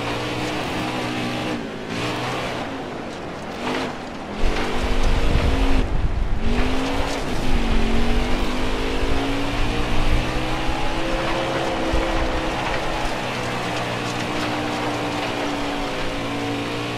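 A NASCAR stock car in the racing video game Nascar Heat 4 pulls hard near full throttle, its engine drone climbing through pitch sweeps after a few gear changes, then settling into a sustained high whine.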